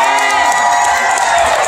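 A comedy show audience bursts into loud, continuous applause and cheering, a dense wash of crowd noise that fills the whole moment.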